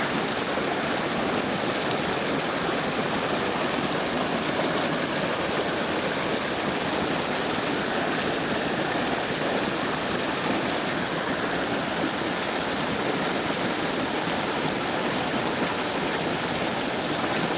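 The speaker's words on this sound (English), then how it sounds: "what is it that you personally like about flowing water?" A low, algae-filled river flowing steadily, producing a constant broad rushing wash that stays loud and unchanging throughout, with no voices.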